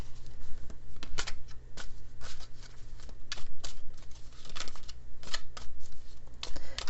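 A tarot card deck is shuffled continuously at close range, with quick riffling bursts and soft papery slaps repeating in an uneven rhythm, no voices.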